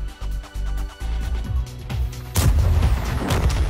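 Heavy 130 mm tank cannon blasts from a tank video game, with deep booming reports and rumbling engine noise, a big loud shot near the end rolling into a long rumbling decay.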